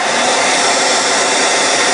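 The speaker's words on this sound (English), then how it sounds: "Hair dryer on high with no heat." Hair dryer blowing on its high setting with the heat off, powered from a Honda 290 portable power station; a loud, steady broadband whoosh of rushing air that holds constant throughout with no voices.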